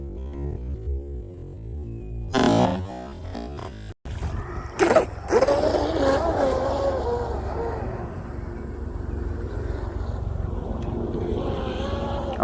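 An RC boat fitted with a Turnigy Marine ESC, two battery packs and a Blackjack 24 flex-cable drive runs across water, its electric motor whining steadily after a few sharp bumps, heard from a moderate distance and fairly loud throughout.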